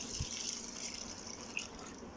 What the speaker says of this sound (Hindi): और अब हम लोग ऐड करेंगे पानी।